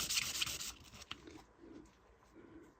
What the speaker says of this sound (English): I'm using a 600 grit. We're just going to slightly level off the top and then gradually round over the back edge a little bit.